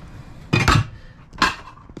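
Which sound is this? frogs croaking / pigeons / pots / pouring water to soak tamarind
pots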